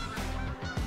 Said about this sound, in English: there's an absolute load of Canada geese